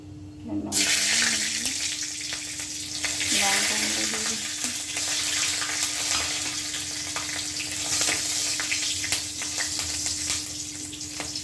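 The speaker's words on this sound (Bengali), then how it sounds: "এর মধ্যে লঙ্কা, কালো জিরে ফোড়ন দিয়ে কাঁচা লঙ্কা আর টমেটো দিলাম" Dried chilli and black cumin tempering in hot oil, then green chillies and tomato added to fry: a loud sizzle bursts in and stays steady and close, with spoon scrapes and stirring, while a voice hums or speaks briefly underneath.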